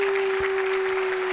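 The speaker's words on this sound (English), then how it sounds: "a round of applause." Brief applause on a podcast, an even hiss of clapping that runs about a second with a steady electrical hum underneath and no talking.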